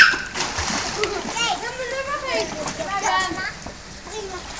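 Children splash in a backyard pool while swimming from the deep end toward the shallow end, with close water splatter continuing throughout and kids and an adult talking over it.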